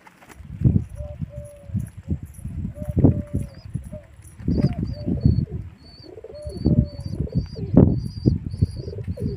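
Pigeons cooing and fluttering nearby, with bursts of wing flapping and a few chirps over a steady low rustle.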